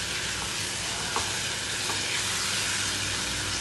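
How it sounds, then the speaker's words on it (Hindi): Mixed vegetables with grated ginger and beetroot fry and get stirred in a pan, a steady soft sizzle with occasional scraping stir sounds, fairly close and without any talking. "अब इन सारी चीज़ों को मिला के थोड़ी देर भूनेंगे"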